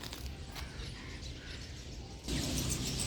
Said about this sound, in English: I want you guys to hear the ambient sounds of the birds chirping.